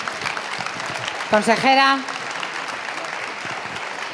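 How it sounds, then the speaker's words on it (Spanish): Audience applause at the Pasarela de la Moda de Castilla y León fashion awards, for a young designer prize, forms a steady wash of clapping beneath an amplified voice, with a brief tonal sound rising in the middle. "Un aplauso para ella, por favor."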